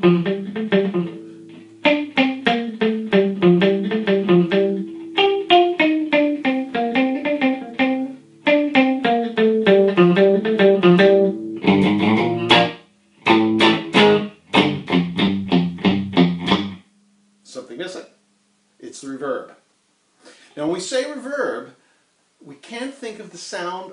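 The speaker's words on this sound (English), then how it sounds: "I'm going to use a melody, the second melody line from the well-known surf song" A dry, clean electric guitar with no reverb plays a fast picked surf-style melody in tremolo bursts, then a few isolated, choppier phrases with pauses between.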